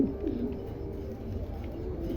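Lahori pigeons, a male and a female, coo in low, soft, repeated calls close by, steady against a faint background hum.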